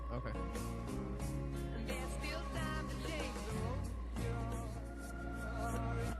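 A commercial song played backwards: a dense, warbling wash of reversed guitar and vocals with smeared, swelling notes and garbled voice-like sounds, continuous and fairly loud.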